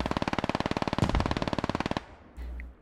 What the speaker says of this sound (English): And everyone's firing.